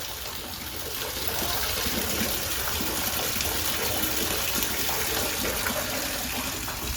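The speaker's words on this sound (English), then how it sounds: "there's some kind of water underneath of there because you can hear it running." Steady rushing of underground water running beneath the ground in a park, continuous and broadband, as if flowing somewhere nearby beneath the surface, with no talk.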